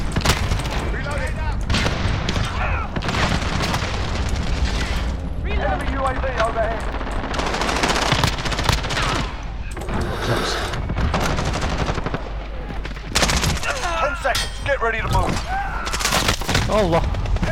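Heavy, sustained gunfire in Call of Duty Modern Warfare, with dense automatic bursts and booming shots filling the whole stretch loudly and continuously, while voices talk over the battle at times.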